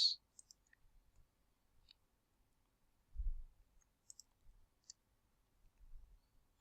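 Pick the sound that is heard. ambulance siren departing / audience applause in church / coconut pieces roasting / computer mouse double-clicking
computer mouse double-clicking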